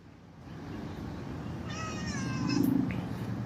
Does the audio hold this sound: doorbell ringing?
no